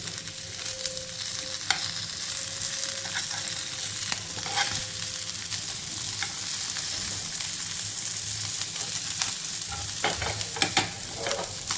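Small mandeli fish fry in a pan for a Konkani-style dish, giving a steady, close sizzle that runs throughout, with occasional sharp clicks and spatters over the constant hiss.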